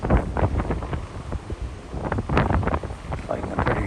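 Strong wind buffets the microphone on the deck of the Royal Caribbean cruise ship Utopia of the Seas near CoCo Cay, a loud, uneven roar with gusting bursts throughout.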